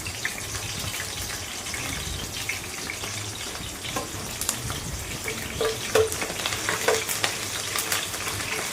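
Curry leaves frying in oil while pepper chicken is cooked, a loud, continuous sizzle up close with spoon scrapes and stirring knocks growing busier toward the end and no voices.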